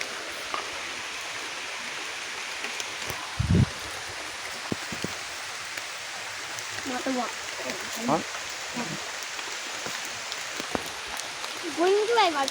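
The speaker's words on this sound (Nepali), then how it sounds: "पानी पऱ्यो, हामी यत्तिकै वेट गर्छौँ पानी बिदा हुनेको" Steady rain falls in a jungle, a dense continuous hiss of drops with a few short louder knocks, while people talk briefly over it.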